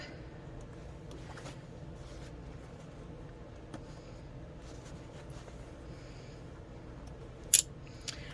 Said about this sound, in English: I'm just going to trim these apart, and if you've got long strands, give them a clip.